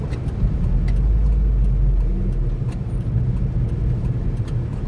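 Evening rush-hour traffic jam on a busy road in Laos, with a close, steady low rumble of idling and slowly moving car engines and faint clicks and ticks over the drone, with no one speaking.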